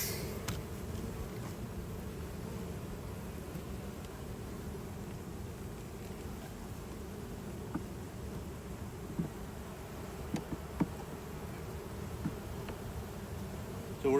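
Honeybees buzz steadily around an open hive during an inspection and colony feeding, a dense, even drone filling the whole stretch with a few sharper close passes near the end and no talk.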